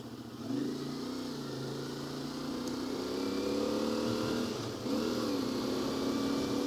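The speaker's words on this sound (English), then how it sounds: "every time I shift and apply throttle, it's like I'm not transitioning well enough" Motorcycle engine drones steadily, its pitch rising and falling as gears change and the throttle opens again with rough transitions, heard from the rider's position.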